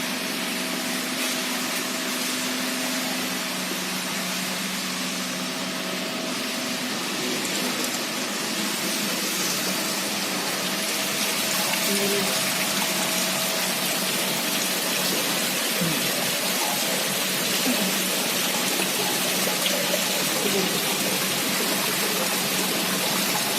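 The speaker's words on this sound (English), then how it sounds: "I just open this valve." Water rushes through an opened valve on a jet impact test apparatus in a lab, a steady, dense roar with a faint underlying hum that holds constant throughout.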